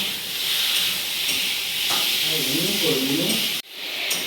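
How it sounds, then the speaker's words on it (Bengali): Fried rice cooks at a bridal shower gathering, giving a steady, dense sizzling hiss that runs almost the whole time, with faint voices murmuring underneath before it cuts off abruptly near the end. "এখানে এখন ফ্রাইড রাইস তৈরি হচ্ছে"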